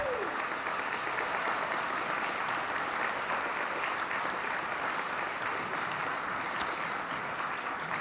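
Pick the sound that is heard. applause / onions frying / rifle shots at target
applause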